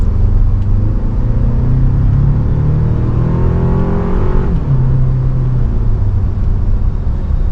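The four-cylinder hybrid engine of a 2024 Toyota Tacoma TRD pickup revs up steadily with a rising whine, then drops back to a low rumble, loud and close with no voices.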